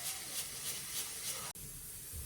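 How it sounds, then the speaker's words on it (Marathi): Steam hisses steadily from a pressure cooker whistle after four whistles while paneer masala cooks, a continuous loud airy release with a brief cutoff partway before resuming. "तर आता कुकरच्या इथे 4 शिट्ट्या झाले."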